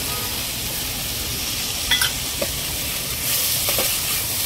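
Vegetables for soup, including capsicum and corn, frying in a pan, a loud steady hiss with a few faint clicks of a utensil and a slight swell near the end.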